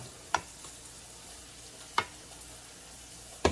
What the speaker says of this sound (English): The skillet is hot, so it's gonna cook this really fast over here.